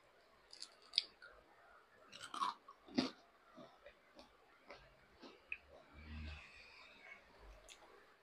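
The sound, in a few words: chewing crunchy fried chicken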